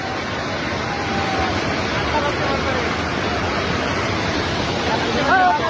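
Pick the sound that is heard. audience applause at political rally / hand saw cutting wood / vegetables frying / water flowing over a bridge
water flowing over a bridge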